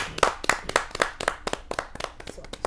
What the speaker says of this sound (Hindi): जोरदार तालियों के साथ सचिन सागर